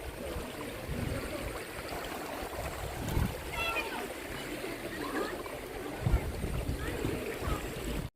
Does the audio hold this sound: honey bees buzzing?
no